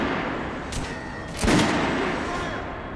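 Gunfire on a firing range in the video game Metro: Last Light Redux, a couple of sharp shots with one louder burst near the middle, set against a steady busy background.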